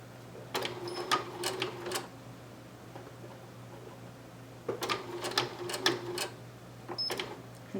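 A sewing machine stitches a quarter-inch seam on a small American Girl doll slouch boot in two short, slow runs of rapid ticking clicks, with a quiet pause between them.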